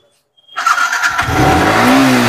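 A used motorbike in a budget showroom kicks into life after a moment of silence, then idles and revs loudly and steadily close by.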